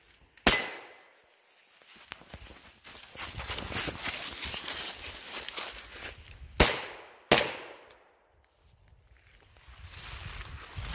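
Gunshots from a Stribog SP9A1 fitted with a curved magazine: three sharp, loud reports spaced well apart, one early and two close together later, with quieter handling and background noise between them.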